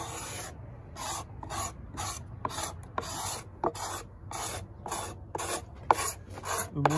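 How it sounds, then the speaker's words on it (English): A hand scraper rasps over the wooden top of an archtop guitar being built, giving a series of short, close scraping strokes in a quick, even rhythm with no talk. "just kind of hit the whole thing real quick with the scraper"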